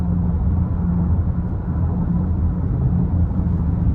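A 2021 GMC Acadia Denali FWD slows on adaptive cruise control, giving a steady loud low road and engine rumble from inside the cabin, with no talking.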